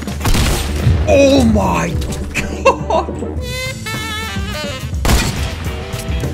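Fortnite gunfire in a loud game mix: booming shots and thuds jump out over game music and effects, with excited voices and a laugh talking over the action.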